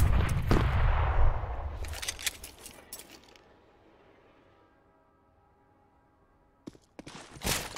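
Gunfire in a Counter-Strike match on the Train map, a loud burst of rapid shots that fades into quiet, then more sharp shots near the end.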